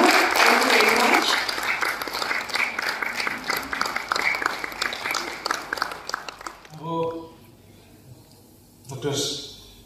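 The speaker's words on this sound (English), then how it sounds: "may I request the applause to keep going as we felicitate our guests of honor." Audience at a book launch event in Nepal applauds loudly for several seconds as guests of honour are felicitated; the clapping fades out, leaving a few short bursts of voices and movement at the end.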